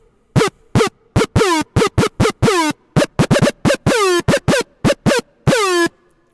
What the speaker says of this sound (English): So that's just me jamming on the keyboard